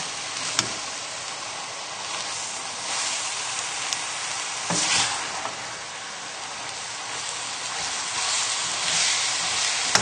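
Minced supermarket beef sizzles and crackles steadily in a hot pan for spaghetti bolognese, with occasional scraping bursts as the meat is turned over; loud and continuous, no talking.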